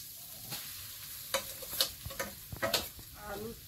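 Potato stirred in a hot pan with salt and chili powder sizzles softly while a spoon scrapes and knocks in a few uneven strokes, close and fairly quiet.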